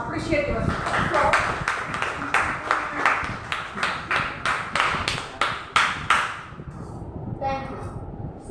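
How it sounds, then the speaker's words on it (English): Students in a classroom clapping in a steady rhythm of about a dozen sharp, evenly spaced claps, with talking over the start before the clapping stops and the room goes quiet. "Clap yourself. Appreciate yourself."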